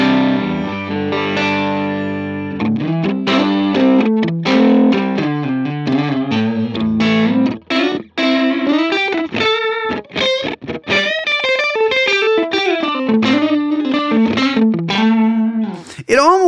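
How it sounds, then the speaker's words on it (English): Electric guitar played through a Helix reverb set to a short, slapback-style delay with feedback at zero, a clear melodic line of picked notes and chords with a light, barely-there repeat, loud and without talking. "it almost is like a slapback style of an effect, but I mean, it's almost not even there."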